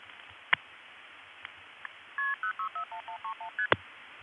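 Telephone switch in a senderized step tandem office sending a quick run of about eight multifrequency dialing tones for directory assistance, clean and evenly paced, framed by a few sharp switching clicks on a quiet line.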